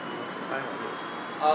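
A radio-controlled electric helicopter runs with a steady whirring, hissing drone of rotor and motor, fairly close, with a brief rise in pitch and level near the end.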